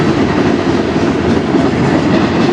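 CN freight train passing in Sarnia, Ontario, a loud, close, continuous rumble of rolling railcars with a steady rattling wheel noise and no let-up.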